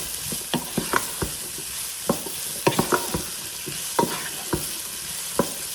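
Potatoes sautéing in a pan, a soft background sizzle broken by frequent irregular scrapes and taps of a spatula stirring, close up with no voices.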